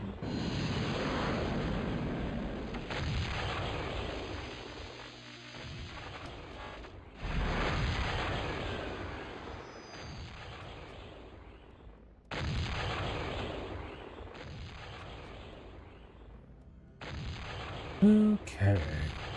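Artillery cannons in Total Annihilation pound away in repeated heavy barrages, each loud booming burst rolling into the next across several waves, with a brief clatter of other game effects near the end.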